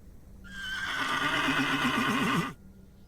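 A horse in a PC video game whinnies once, a long rising then wavering neigh lasting about two seconds, clear and fairly close.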